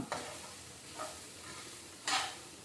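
Fried rice being stirred in a pan, three separate scraping sweeps with a faint sizzle between them, quiet overall.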